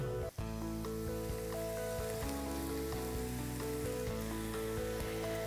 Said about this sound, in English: the meats with the vegetables must be browned very well